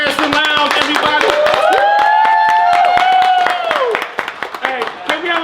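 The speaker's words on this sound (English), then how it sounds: "round of applause, Kat Williams in the Branson Lounge, everybody" Applause for Katt Williams in the Branson Lounge during an interview in Oklahoma: dense, steady clapping from a crowd, loud and close, with a sustained voice and cheering over it, thinning out near the end.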